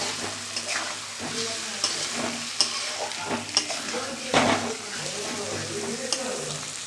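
Five fish being stirred as they fry in a mustard and green chilli spice paste, a steady close sizzle broken by scraping spatula strokes and occasional clinks, with faint voice underneath.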